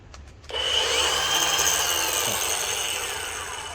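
A RIDGID Octane 18V brushless 4.5-inch angle grinder fitted with a DeWalt blade cuts through a fence post, starting after a few faint taps into a loud, steady, high grinding whine that holds close and continuous.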